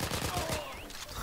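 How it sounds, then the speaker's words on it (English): Submachine gun fire in Heroes & Generals crackles in a rapid burst of sharp shots, the reports fairly distant and quiet, with game ambience behind. "Yeah, the SMG sounds are nice."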